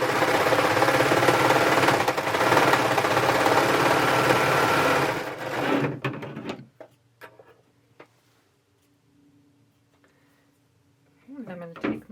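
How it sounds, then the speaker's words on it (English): A serger overlocker runs steadily for several seconds, stitching cardigan pieces together at the shoulder, a loud continuous mechanical hum that stops abruptly, followed by near silence and a brief shuffle of fabric. "I'm going to go ahead and serge that together"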